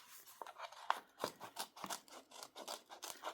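Scissors cut paper for an art journal, a close, quiet series of crisp snipping and scraping strokes in an uneven rhythm with no talking.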